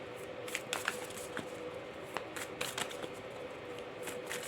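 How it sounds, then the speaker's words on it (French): Tarot cards shuffled and drawn by hand, giving soft papery riffles and slaps in scattered bursts, with a faint steady hum underneath and no talking. "Alors, on continue à prendre nos autres cartes."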